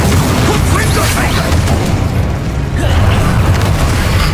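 Fire spell blasts in the Harry Potter action game Hogwarts Legacy. A loud, sustained rumbling roar of explosive bursts with booming low end continues throughout, briefly dipping before surging again.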